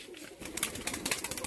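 Pigeons being fed coo softly in a short, faint burst of rhythmic calls, with nearby fluttering and scuffing sounds.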